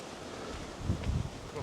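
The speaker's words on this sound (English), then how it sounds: "it is windy today, as you can probably hear" Wind blows through the sheltered Guinate valley on Lanzarote, a steady rushing noise that buffets the microphone with low gusts toward the end.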